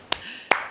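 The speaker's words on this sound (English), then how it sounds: "Clap for yourself." Two sharp hand claps, about 0.4 seconds apart, from a contestant clapping for themselves on a book quiz show, close and crisp with quiet in between.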